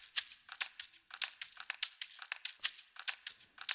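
Three shakers together drive an afrobeat rhythm with dense, rapid rattles, bright and close, each layered shake overlapping in a busy steady pattern with no voices.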